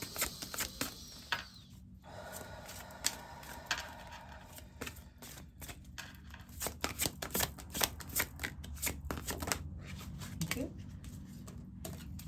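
Tarot cards being shuffled by hand, a long run of quick crisp riffling snaps and flicks in irregular bursts, close and fairly soft, with a voice speaking quietly in places.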